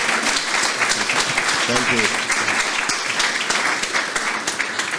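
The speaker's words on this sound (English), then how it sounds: "I'd like to give you a bit of applause because you never get it." Audience at a vision health gala breaks into sustained, dense applause that fills the room, with a brief spoken thanks near the middle.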